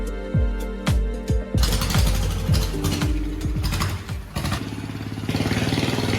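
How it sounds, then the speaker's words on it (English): Loud, revving longtail boat and motorbike engines with a rattling, ratcheting mechanical chatter, pulsing and surging continuously, close by, with no voices. "The noisy longtail boats and motorbikes."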